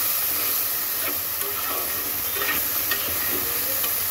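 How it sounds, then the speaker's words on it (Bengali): Vegetables fry lightly in a pan with a steady hissing sizzle and occasional scraping stirs, close and continuous with no voices. "তো চলো সবজিটাকে একটু হালকা ভেজে নেই"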